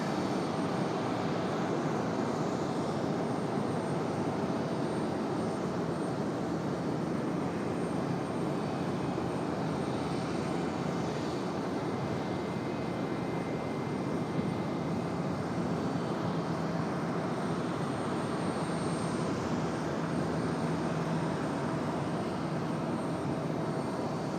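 A small aircraft at Raleigh-Durham airport taking off, its engine a steady broadband roar that holds loud and unbroken throughout, with no voices.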